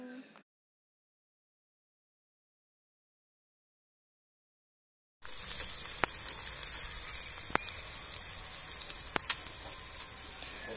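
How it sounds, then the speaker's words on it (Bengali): Chopped onion, two medium onions, frying in a pan after whole spices for a mixed-vegetable shrimp dish; after a silent gap, a steady close sizzle fills the back half with a few sharp crackles. "এবার পেঁয়াজটাকেও একটু ভেজে নেব।"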